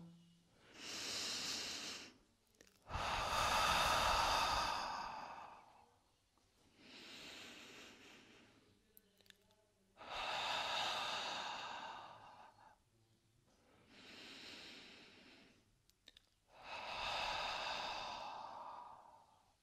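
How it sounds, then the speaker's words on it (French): Slow, deep exhalations through the mouth as the belly deflates during a children's relaxation breathing exercise, five or six long airy breaths separated by short pauses, close and fairly soft. "je fais sortir l'air par ma bouche en dégonflant au maximum mon ventre"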